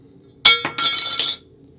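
An Apple Card metal credit card hits a hard surface with a bright, ringing clink, then bounces in a quick second tap and a longer metallic chatter before settling.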